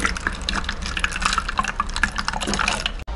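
Water pours into a bottle, a close, continuous splashing trickle with bright drips and gurgles shifting in pitch as it fills, ending with a sharp knock.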